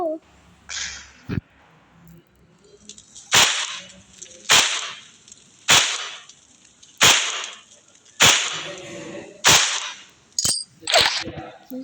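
A run of sharp, loud blasts and cracks, about eight in steady succession with short gaps, like gunfire and an explosion in a game.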